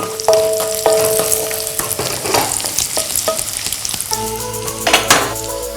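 Raisins fry in a pan for sorekayi (bottle gourd) halwa, giving a steady crackling sizzle with stirring scrapes and a few louder pops, close and alone with no talking.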